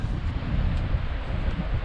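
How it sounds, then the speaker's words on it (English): Steady outdoor wind buffets the microphone on a blustery day in a heavily forested stretch of the Great Glen Way, a continuous low rumbling roar with no voices. "It's a windy, blustery day."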